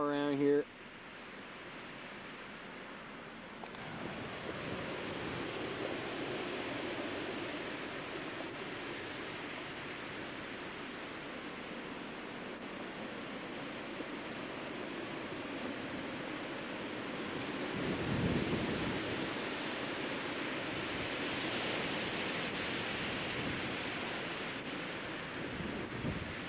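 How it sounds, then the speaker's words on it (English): Wind blowing through the 1993 blizzard in New London, New Hampshire, a steady broadband rush that swells midway, with a brief knock at the start. "you got some wind starting up now"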